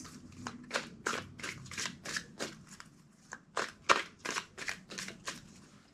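Quick riffle shuffles of a tarot card deck, a rapid series of crisp fluttering bursts close by, repeated rhythmically with short pauses.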